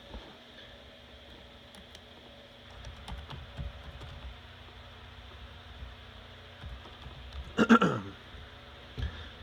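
A character's name is typed on a computer keyboard in a Fallout: New Vegas session, with scattered soft key clicks over a quiet room hum and a short cluster of louder taps near the end.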